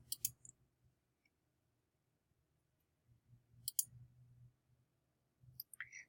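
Mouse clicks on a computer quiz button: a few sharp, faint clicks spaced seconds apart over a quiet room with a low hum.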